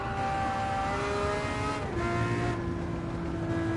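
A Gran Turismo 7 race car engine drones steadily at high revs, a dense buzzing roar with a slight shift in pitch partway through.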